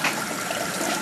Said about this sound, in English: Still have a pretty good rate of water coming in here.